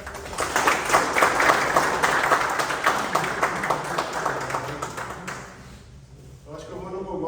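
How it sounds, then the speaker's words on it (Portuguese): A corporate lecture audience breaks into applause, a dense run of many clapping hands that fades after several seconds, with voices heard alongside. "uma salva de palmas aí agradecendo a todos."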